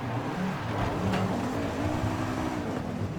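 A VW Golf R engine in Forza Horizon 5 drones steadily at sustained revs, loud and close, with a faint pitch shift partway through.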